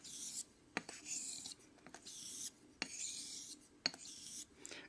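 A small stone is rubbed around on a honing stone used for sharpening a Dovo straight razor, making quiet gritty rasping strokes in a steady back-and-forth rhythm with brief sharp ticks between passes, close up and without speech.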